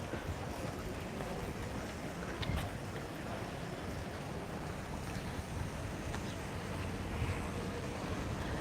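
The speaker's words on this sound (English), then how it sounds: "it is extremely windy" Strong wind buffets the microphone at the seafront in Alcudia, Mallorca, a steady loud roar with gusty surges throughout and surf washing faintly underneath.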